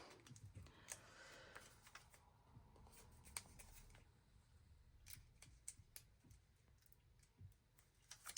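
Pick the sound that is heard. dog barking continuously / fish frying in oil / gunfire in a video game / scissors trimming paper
scissors trimming paper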